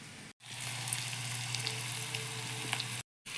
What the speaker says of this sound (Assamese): এয়া লেচেৰা আলু ভাজি বনাই আছোঁ।